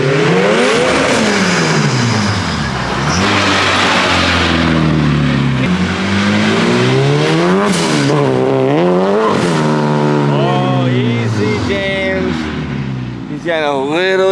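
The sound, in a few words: turbo Honda K-series S14 test run on dyno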